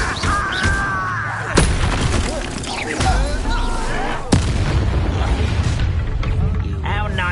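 Spell-casting combat in Hogwarts Legacy: loud magical blasts, sharp cracking impacts and whooshing effects come in rapid bursts, with voices and creature cries mixed into the fight.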